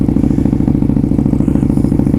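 A KTM Super Duke motorcycle engine running with S22 exhaust pipes, a loud, close, steady rapid idle pulsing with a rough crackling burble and no other sound.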